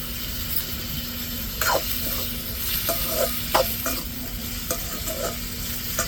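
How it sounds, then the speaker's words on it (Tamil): Dried fish sautéing with onion and tomato in a hot pan: a steady close sizzle runs throughout, broken by several sharp scraping stirs of a spatula, with no talking. "வெங்காயம் தக்காளி நல்லா வதங்கினதுக்கப்புறம் நம்ம கருவாட்டை சேர்த்துக்கிறோன்னு நல்லா வதங்கட்டு"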